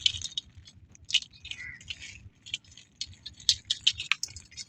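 A large crab moving inside a plastic water bucket, giving faint, scattered scratching and clicking taps against the sides in irregular bursts, close and quiet.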